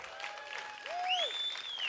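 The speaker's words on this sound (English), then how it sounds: "let's give a big round of applause to all of our awardees today." An audience at an awards ceremony applauds the honorees, a steady wash of clapping from a room full of people, joined by a bright whistle-like cheer near the end.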